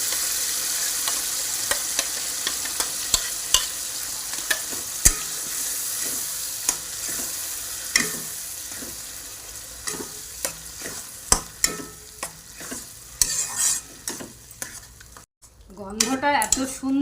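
A taro-leaf and prawn dish fries and sizzles steadily in a pan, stirred with a utensil that scrapes and clicks sharply and irregularly throughout, with a fresh burst of sizzling near the end.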